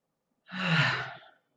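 One deep, slow breath taken during a relaxation breathing exercise, close and soft, swelling and fading over about a second with nothing else around it.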